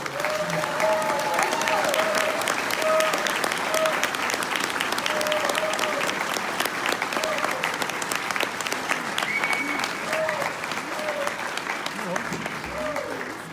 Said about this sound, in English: please join me in giving one more big round of applause for all of these candidates that joined us here